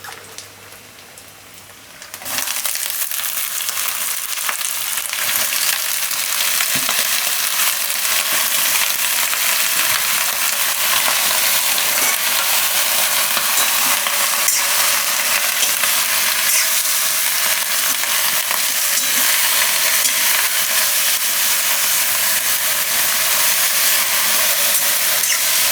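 Eggplant sizzles loudly in hot oil in a pan for a Gujarati baingan vadi curry, a steady broadband frying hiss that jumps up after a quieter opening couple of seconds and holds constant, with occasional stirring clinks.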